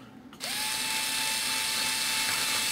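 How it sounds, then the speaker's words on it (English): A small power drill spins up and whines steadily at high speed while boring a little hole in a model airplane wing's aileron, loud and continuous with no talk. "So we're going to very gently drill a little hole."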